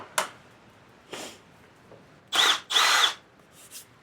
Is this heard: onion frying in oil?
no